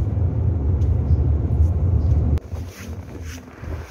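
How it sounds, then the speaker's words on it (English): Heavy wind near Castner Creek Glacier in Alaska buffets the microphone in a loud low roar that drops off abruptly partway, leaving softer gusts and rumble. "It's really windy."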